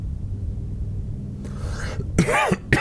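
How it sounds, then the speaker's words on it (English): A person with a cold and sore throat lets out a few harsh coughs near the end, close and fairly loud, after a quiet stretch of background sound from a Warhammer 40K: Rogue Trader game. "Still got that cough."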